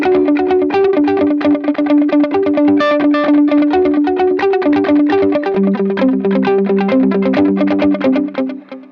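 Electric guitar through a JHS 3 Series pedal board set to a dotted-eighth delay, loud and close, rapid rhythmic repeats of picked notes cascading into each other with a distorted, chorused edge, fading at the end.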